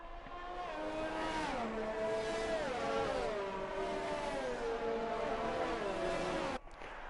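F2 race cars pull away on a formation lap at the Mexican Grand Prix in a racing video game, their engines rising and dropping through repeated gear shifts as several cars rev together, steady and fairly close.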